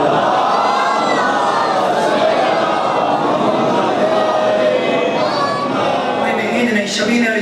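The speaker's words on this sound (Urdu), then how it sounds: "ایک باجماعت صلوات پڑھو سارے حضرات" At a Muharram majlis in an imambargah, a large congregation recites salawat together in one loud, continuous mass of voices that swells and holds throughout.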